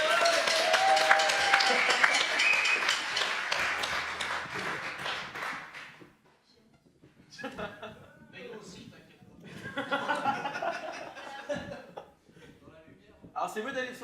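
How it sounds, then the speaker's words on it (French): Audience applause and clapping greet a contestant heading onto the stage at a live French talent show, a dense, loud burst for about six seconds, then scattered lighter clapping and chuckles mixed with talk. "Allez-y, on l'applaudit."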